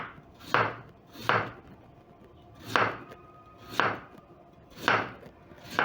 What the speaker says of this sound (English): So as I slice my potatoes